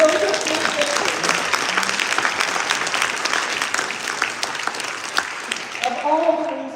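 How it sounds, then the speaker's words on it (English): A political rally audience applauds at length with dense, steady clapping and a few cheers, loud and continuous throughout, with a voice rising briefly near the end. "give yourselves a huge round of applause"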